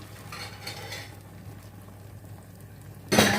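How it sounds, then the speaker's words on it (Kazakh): Eggs frying in a pan for children, with a steady low sizzle and light stirring and utensil clinks, ending in a louder burst of sizzle or scraping close by. "Балаларға жұмыртқа қуырып жатырмын."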